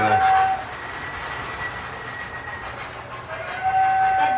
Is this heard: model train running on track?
yes